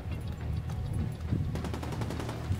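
Rapid bursts of gunfire from a shooter in The Division 2 crackle in quick succession over a dense in-game background. The shots come closer and sharper in the second half, loud and continuous with no pause.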